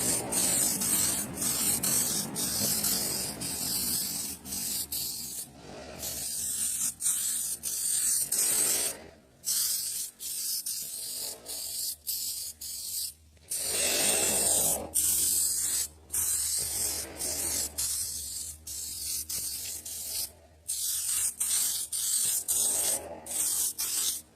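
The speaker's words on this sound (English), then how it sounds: "See how I spray? Listen to it." Bursts of aerosol spray hiss loudly as a coating is sprayed onto a car headlight in repeated passes, each several seconds long, separated by brief pauses, with no voices.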